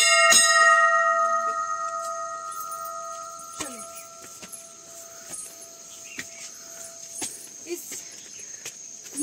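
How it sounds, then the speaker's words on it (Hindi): A single bright temple bell strike rings out and slowly decays, followed by faint clicks and light tapping in an otherwise quiet space. "तो गाइस पहले हम घंटी बजाते हैं।"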